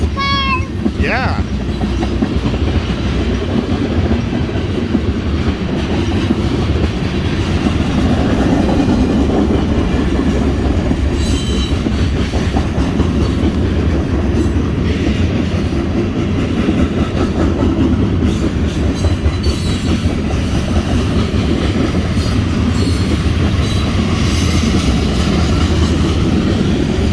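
A BNSF freight train with Warbonnet heritage unit 4719 and unit 7183 leading rolls past close and loud, a constant heavy rumble with rail clatter and clickety-clack, while people talk briefly over it.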